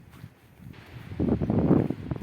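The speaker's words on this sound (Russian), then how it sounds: "Но все равно дует ветер конкретный." Strong squally wind buffets the microphone in low rumbling gusts that swell louder in the second half, with faint rustling.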